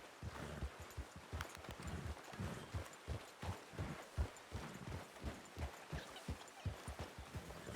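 Horse hooves clip-clopping at a steady walking rhythm in a western roleplay game, a continuous series of soft, even hoofbeats, faint and alone.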